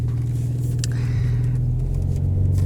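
Porsche 992 911 Turbo S engine in Sport Plus mode, idling with a steady deep rumble and low throbbing drone, close and loud, held evenly throughout with no talk.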